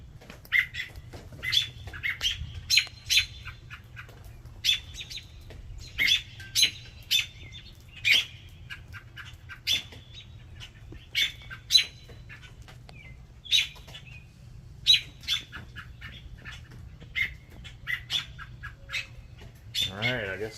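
Robins chirp and squawk outdoors in spring, a steady run of short, bright calls spread across the whole stretch, some close and some farther off, over a low constant background hum.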